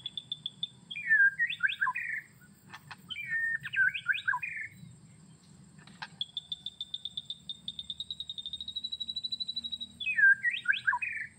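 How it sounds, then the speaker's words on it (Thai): Wild forest birds call back to a bird-call lure, repeated bursts of bright chirping phrases and a long rising trill, fairly close, over a low steady hum of background noise. "แล้วก็ได้ยินเสียงนกมา"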